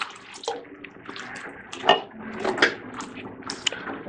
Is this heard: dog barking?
no